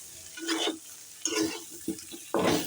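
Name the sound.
cauliflower with cumin, chilli, turmeric being stirred and fried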